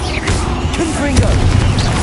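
Confringo blast spells in a Harry Potter video game, a loud continuous rumbling roar with sharper crackling bursts scattered through it, close and dense from start to finish.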